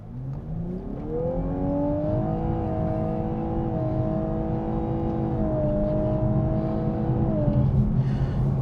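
Lexus LC500h hybrid accelerating hard from a launch with traction control off, engine note climbing steadily in pitch through several gear-like steps, loud and continuous from inside the car, no talking.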